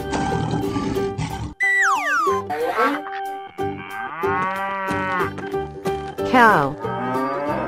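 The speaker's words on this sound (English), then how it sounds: "Cow." Cartoon cow moos in long, drawn-out calls set against playful cartoon music with springy sound effects, loud and close.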